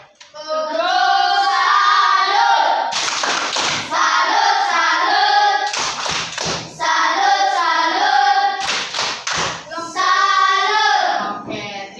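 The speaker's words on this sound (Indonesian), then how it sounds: "Tepuk salut dulu untuk kelompok" A class of students performs a rhythmic 'tepuk salut' patterned clap for a group after a civics discussion, bursts of sharp coordinated claps breaking through loud sustained tonal sound that dominates most of the stretch.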